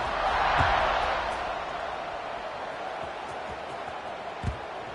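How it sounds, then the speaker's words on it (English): Football stadium crowd at a Texas State versus Oregon game buzzing after a touchdown, a broad, steady roar of many distant voices that swells then settles, with a sharp thump near the end. "this crowd is buzzing after that last score"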